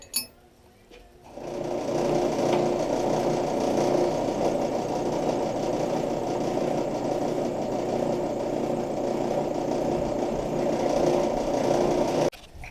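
A larger, bolt-sized drill bit bores through metal for a torque converter mount on a Tecumseh mini bike, a steady grinding motor drone that runs about eleven seconds, then cuts off abruptly.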